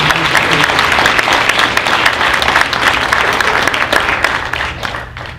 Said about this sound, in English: A big round of applause for the young men.